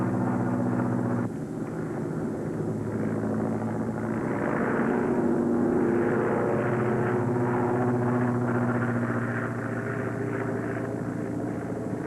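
A propeller airplane flying overhead gives off a steady, droning hum that holds at an even, moderate level throughout, with no voices over it.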